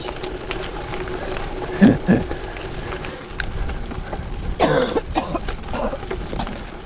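Two coughs stand out over a noisy, rumbling background during a gravel bike ride near Mont Ventoux, one just before the two-second mark and a rougher one a few seconds later.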